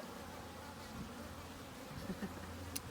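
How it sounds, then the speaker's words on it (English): Close, steady buzzing of many honeybees in an open hive during inspection, a continuous low drone with occasional louder passes. "Have you ever seen this many bees in one place?"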